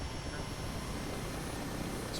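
Steady droning engine and rotor of an Mi-8 helicopter in the DCS flight simulator game, a continuous dense low rumble with no talk, constant and loud throughout.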